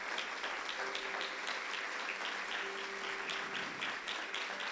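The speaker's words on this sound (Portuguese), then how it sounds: "Vamos recebê-lo com uma salva de palmas." A church audience claps to welcome a pastor to the stage, a sustained, full wash of applause from many hands, steady and unbroken for several seconds.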